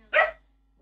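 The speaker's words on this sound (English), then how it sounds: "sorry about my dog. He's a bit loud." A single sharp dog bark, loud and close, followed by silence.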